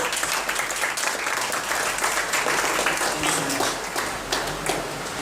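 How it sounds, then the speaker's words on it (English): Audience applause at a corporate team competition event in Mumbai, a thick, even patter of many people clapping at once, continuous and fairly loud for the whole stretch. "let's have a round of applause for you"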